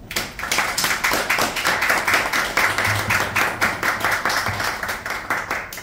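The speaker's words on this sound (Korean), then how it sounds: "따뜻한 박수로 맞아주십시오." An audience claps warmly to welcome a pastor onto the stage at a talk, a lively, close round of applause with distinct, rhythmic hand claps that keeps up steadily for several seconds.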